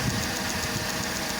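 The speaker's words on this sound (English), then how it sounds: "with the car running, that be clicking, which it is doing very slowly" A Mercedes CLK 230 Kompressor with the M111 engine idles roughly, a steady close engine drone carrying a faint, slow, regular clicking that tracks the engine speed.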